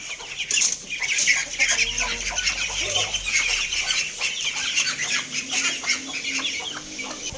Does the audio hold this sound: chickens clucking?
yes